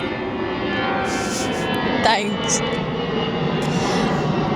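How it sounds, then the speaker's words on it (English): A plane passes overhead as a steady, broad engine drone that persists throughout, with a voice speaking briefly over it. "There's another plane, so I don't even know if you can hear me."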